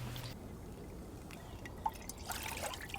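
Hot water trickles from a kettle onto ground Rwandan Kanzu natural coffee in a pour-over brewer, a quiet, close, steady stream with a few drips and no talk.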